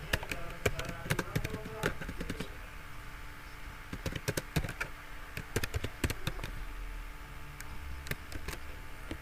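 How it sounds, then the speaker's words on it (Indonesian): Light, irregular clicks of a computer keyboard as a quiz question is typed, scattered in quick bursts with a pause midway over faint room noise. "Di sini kita bisa mengetik pertanyaan kita di sini."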